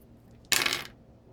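Four attack dice from a Star Wars X-Wing tabletop game clatter in a single quick, bright rattle that fades within half a second, close and alone.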